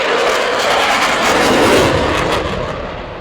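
An RAF Typhoon jet roaring with afterburners at the Yeovilton Airday air show, a loud broad continuous roar that swells slightly and then fades as it passes.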